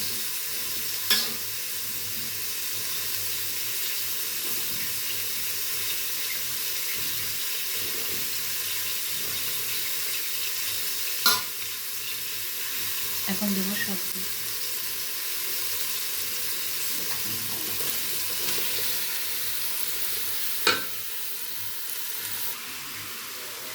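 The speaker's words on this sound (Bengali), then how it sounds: "হয়ে গেছে আলুটা ফ্রাই করা ভাজা হয়ে গেছে আলুটা" Potatoes fry in a pan with a steady, even sizzle that continues throughout, broken now and then by sharp clicks and scrapes of stirring.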